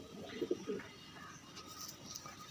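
Domestic pigeons at a home loft in Bagnan, Howrah, give a faint pair of soft low coos early on, followed by quiet background hiss.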